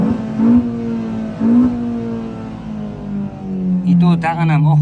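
A Chevrolet Cobalt engine with a stage 1 tune revs repeatedly at close range, rising and falling pitch in short bursts, with someone talking over it.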